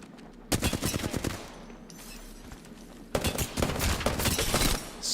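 Rapid bursts of gunfire in a shooter video game: a dense volley of shots for about a second, a pause, then a longer sustained stretch of automatic fire, loud and close.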